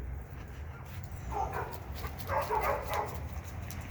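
Young puppies on a dog-training property give two short bursts of barking and yipping, a little distant and moderately loud, over a low steady background rumble.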